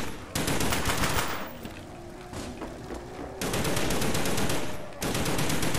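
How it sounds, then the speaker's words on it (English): A light machine gun in a video game fires in long rapid bursts with a short lull in the middle, loud and close, then resumes sustained automatic fire. "I got a light machine gun!"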